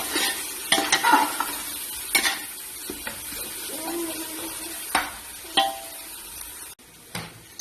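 Masala paste of garlic, tomato and kabsa spice is sautéed with bay leaves in a pan. A soft sizzle runs under repeated scraping and stirring strokes, with sharp clinks of a utensil against the pan.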